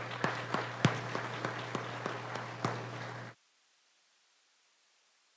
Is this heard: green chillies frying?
no